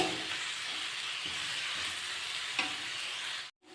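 A steady hiss of frying in a pan with fenugreek leaves, a close sizzle with a few faint taps, cutting out abruptly at the end.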